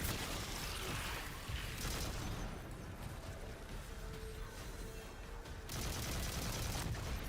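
Sustained video-game gunfire in Destiny 2, a dense rolling fusillade of shots and bursts at moderate level, easing slightly midway before swelling again, with no talk over it.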